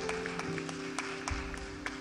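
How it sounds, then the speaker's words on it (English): A church congregation claps for a new pastor, with steady, moderately quiet applause and a few sharper individual claps standing out. "So please give them another round of applause."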